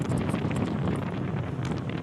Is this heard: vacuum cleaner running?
no